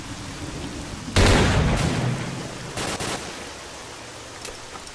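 Gunshots ring out in the S.T.A.L.K.E.R. video game. A loud, sharp burst arrives early and decays, then a few shorter shots crack further off, over a rainy outdoor ambience.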